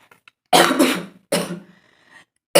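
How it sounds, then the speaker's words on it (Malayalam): Someone coughs in a few sharp close bursts separated by silence, the first a double hack followed by a rougher, throaty one and a last cough cut off at the end. "എനിക്ക് ചുമ ഇപ്പോഴും ഉണ്ട്"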